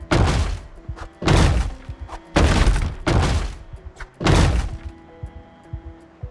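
A hand axe bangs on a barricaded door in Project Zomboid: five heavy, loud thuds with a splintering edge, each followed by a short decay, spaced about a second apart.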